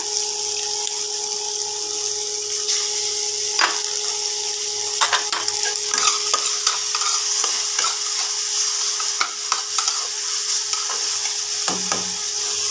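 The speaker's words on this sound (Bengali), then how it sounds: "ছোলা ভাজতে ভাজতেই ওর মধ্যে মশলাগুলো দিয়ে দেবো।" Chickpeas fried in a pan with ginger paste and chili paste for Bengali mochar ghonto, heard as a constant loud sizzle with occasional stirring clicks and scrapes and a steady background hum, no voices.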